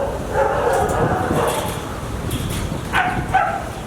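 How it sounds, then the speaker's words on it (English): Several dogs bark and yip close by, being let loose at a stop on a canyon drive with Nissan 350Z cars, in short bursts over a steady background rumble. "I'm gonna let the dogs free."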